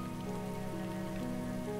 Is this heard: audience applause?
no